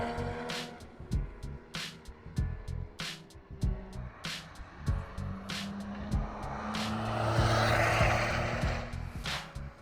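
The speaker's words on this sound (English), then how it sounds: "watch all the cars come steaming down the hill" Cars speeding downhill past a spectator spot at the Nürburgring Nordschleife, a rapid series of loud passes with engines rising and fading one after another, followed by a longer building roar.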